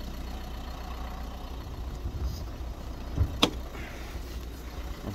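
A 2017 Renault Megane 4 with a 1.5 diesel K9K engine idles quietly and smoothly, a low steady hum with a brief click partway through and no speech.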